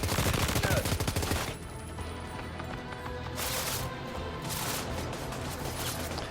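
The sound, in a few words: gunfire in video game Death Stranding 2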